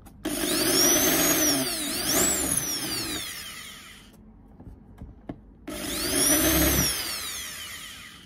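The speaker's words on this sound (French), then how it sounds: "la perceuse doit être dans le sens d'une aiguille d'une montre quand elle tourne" A power drill whines and grinds into plexiglass on a balcony railing in two bursts of several seconds, separated by a quieter pause with small clicks and knocks.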